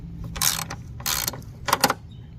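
A ratchet wrench clicks in three short bursts while loosening front strut bolts on a 2012 Nissan Altima, close and fairly loud with brief pauses between turns.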